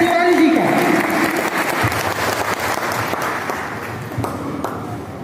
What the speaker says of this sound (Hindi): आप सभी जोरदार ताली से स्वागत करेंगे